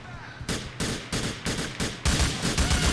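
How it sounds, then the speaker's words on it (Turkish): Police open fire in the video game GTA 4, a rapid run of loud, close gunshot bursts firing in quick succession with only brief gaps. "Oo polis bir sıktı öldü."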